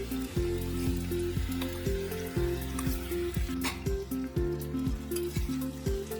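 Soaked sabudana and turmeric hitting a hot pan for sabudana khichdi, a loud close sizzle with rhythmic scraping stirs repeating every half second or so throughout.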